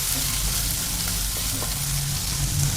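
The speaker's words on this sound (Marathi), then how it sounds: "गोल्डन कलरवरती छान आपल्याला कांदा परतून घ्यायचा." Sliced onion and green chillies sauté in a hot pan, making a dense, steady sizzle close by with faint stirring scrapes and no voices.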